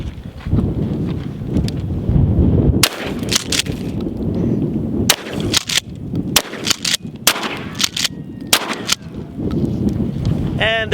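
Shotgun blasts of slugs and buckshot fired at a drone outdoors: a string of sharp, loud, separate booms in irregular succession over steady wind, with some talk in between.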